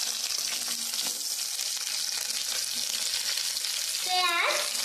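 Capsicum and tomato fry in hot oil for chilli fish, a steady close sizzle throughout with brief stirring and clatter near the end.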